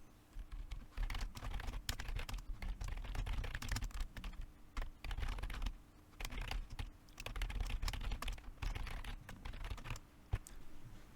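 Fingers type on a computer keyboard while entering blank lines in code, producing quiet, rapid bursts of keystroke clicks separated by short pauses.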